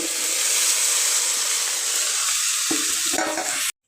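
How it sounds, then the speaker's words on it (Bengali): A spatula stirs eggplant, potato and tender greens in a hot pan, giving a loud continuous sizzle with scraping and clattering toward the end before the sound cuts off abruptly. "খুন্তি দিয়ে একটু নাড়িয়ে"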